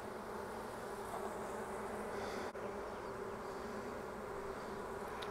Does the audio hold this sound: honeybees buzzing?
yes